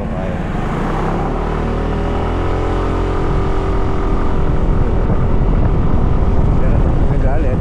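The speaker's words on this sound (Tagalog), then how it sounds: "Pero nagalit ang makina." Husky ADV 150 scooter engine revs hard while climbing a difficult slope with traction control off, a steady loud drone with rising pitch throughout, joined by someone talking over it.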